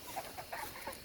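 Cornish cross meat chickens in a coop give soft, faint clucks, a few short murmuring calls scattered over a low steady background hum.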